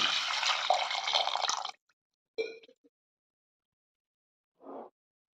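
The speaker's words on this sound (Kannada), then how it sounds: "ಒಂದು 2 ಬಟ್ಲದಷ್ಟು ನೀರು ಹಾಕ್ಕೊಳ್ಳಿ." Water poured from a vessel into a pressure cooker holding moong beans and tomatoes, a close, splashy gush lasting under two seconds, followed by a couple of brief knocks and drips.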